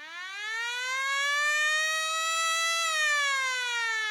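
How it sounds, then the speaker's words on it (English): A siren closes a sports podcast, one long continuous wail that rises in pitch, holds steady, then dips slightly near the end, loud and alone with no talking. "There's the siren to end our podcast."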